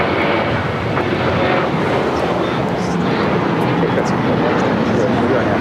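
A Boeing 787 Dreamliner of Air Tahiti Nui, bound for Paris, at Los Angeles International Airport, giving a steady, loud broadband jet engine roar throughout, with a voice speaking over it.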